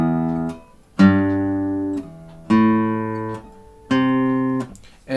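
Guitar plays the bass-note pattern of a fingerstyle arrangement: four ringing low notes struck about a second apart, each decaying before the next, close and alone.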